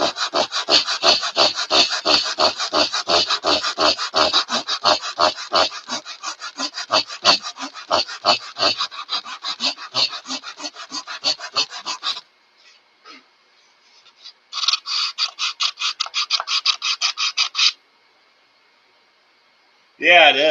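Balsa wood being sanded at the end, rapid rhythmic back-and-forth rasping strokes, loud and close, stopping briefly and then resuming for a shorter burst.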